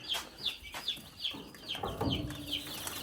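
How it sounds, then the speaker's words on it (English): Many chicks in a brooder chirp in repeated high peeps, moderately near, with soft rustling underneath and no talking. "Over 80 chicks in there."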